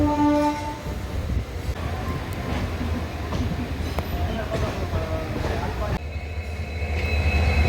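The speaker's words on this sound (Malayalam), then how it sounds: "അപ്പോൾ ട്രെയിൻ എടുത്തിരിക്കുകയാണ്." The Rajya Rani Express pulls out of Mysore Junction with a low rumbling drone and clanking wheels heard from on board, a horn tone at the start, and someone talking over it.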